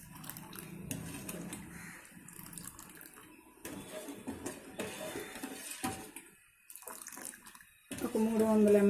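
Water pours into a pot of sugar to make syrup for homemade kala jamun, a running splashing stream that starts and stops several times, with faint background sounds and a louder tonal sound at the end.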